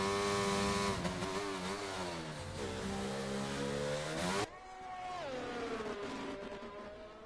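A racing car engine in a racing video game roars and revs, pitch climbing and dipping through gear changes, then drops sharply before building again; no talking.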